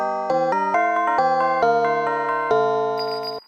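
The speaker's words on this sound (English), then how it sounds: "tubular bells," An iPhone tubular bells ringtone: a run of struck, ringing bell tones in a quick melodic sequence, with long overlapping sustains that fade out at the end. The ringtone is clear and steady, and no voices are heard.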